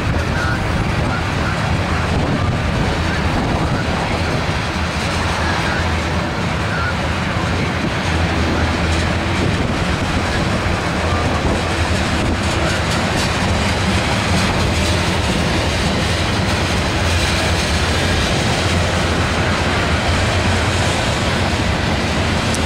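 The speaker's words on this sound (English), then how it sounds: "Usually this train's about 100 cars." A heavy freight train of about 100 cars rumbles past steadily and close, a continuous roar of rolling cars with faint clattering, and a voice briefly talks over it.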